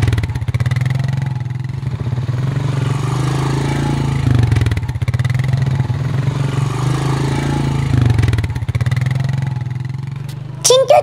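A motorcycle engine runs loud and close with a steady low drone and a few swells in revs, ending with a brief clatter and a thin whistling sound.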